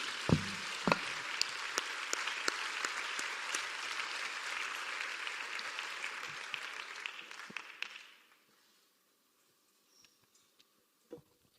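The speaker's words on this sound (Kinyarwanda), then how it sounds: "dukomera Imana amashyi menshi cyane" A church congregation claps enthusiastically for about eight seconds, dense and even with a few sharper claps near the start, then cuts off abruptly into near silence with only faint scattered sounds.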